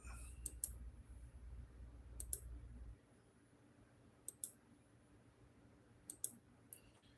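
A computer mouse clicks quietly through press releases, landing in pairs and small clusters of sharp ticks over a low hum that drops away partway through.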